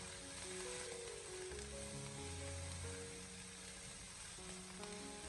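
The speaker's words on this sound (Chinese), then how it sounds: "然后再继续的用锅铲将它不停的进行煸炒，将豆瓣酱炒出红油" Pixian chili bean paste sizzles steadily as a spatula stir-fries it in a wok, a continuous close, bright frying hiss with faint scraping under a background of soft music.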